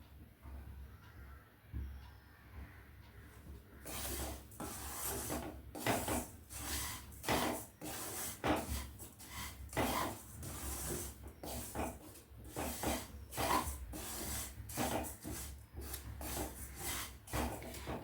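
Fennel seeds dry-roasting over low heat, stirred in a pan with a run of rapid scraping, rattling strokes that start after a quiet opening and continue steadily, close and fairly soft.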